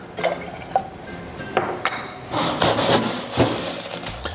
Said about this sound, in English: Four ounces ginger beer.